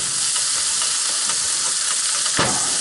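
Thin sheets of steak fry with softened onions in a hot pan, giving a loud, even sizzle throughout with occasional spatter and crackle, no voices.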